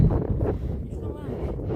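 Low, steady wind rumble buffeting the microphone on a snowy day in Kyle, South Dakota, with muffled talk underneath.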